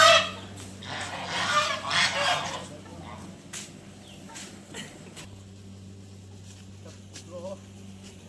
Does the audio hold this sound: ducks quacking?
yes